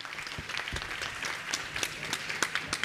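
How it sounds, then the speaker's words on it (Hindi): Audience applause in a hall at a religious question-and-answer gathering with a Jain monk, a steady patter of many hands clapping with sharper individual claps standing out, moderately loud and sustained throughout. "एक बार उनके लिए अच्छे से ताली बजाएं"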